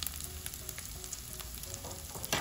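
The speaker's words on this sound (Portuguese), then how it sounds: "Agora nós vamos deixar essa linguiça dar uma fritadinha aqui" Sausage sizzling and frying in a pan alongside bacon, a steady close crackle with faint stirring, no voices over it.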